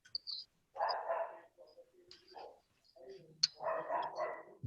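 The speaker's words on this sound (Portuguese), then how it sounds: "Olha o cachorrinho da Solange fazendo sucesso." A small dog gives a few short, high yips and barks in quick, irregular bursts, faint and somewhat distant, with quiet gaps between them.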